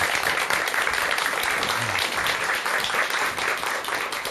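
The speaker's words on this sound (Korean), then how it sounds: "여러분 큰 박수 부탁드리겠습니다." A lecture audience gives a big round of applause that stays dense and steady for several seconds, sounding loud and close.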